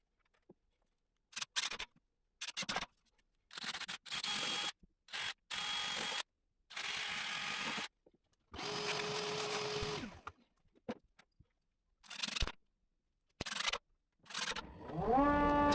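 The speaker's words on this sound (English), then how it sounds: "To make sure the new handles are securely attached, I also attach them with a few screws from below and above." Handles are screwed onto a wooden table-saw crosscut sled with a power screwdriver, heard as short whirring bursts separated by silences, one run ending in a rising whine, nearby and without speech.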